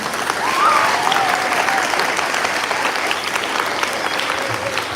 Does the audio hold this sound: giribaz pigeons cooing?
no